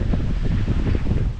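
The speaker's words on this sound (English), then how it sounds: "Wind." Blizzard wind gusts and roars against the microphone, a steady low buffeting rush that stays loud and close throughout a brief stretch.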